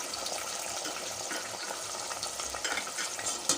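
Ginger, garlic, green chili and sambar masala paste fries in a pan for chicken biryani, giving a steady, fairly quiet hiss and sizzle with light stirring scrapes and no talking.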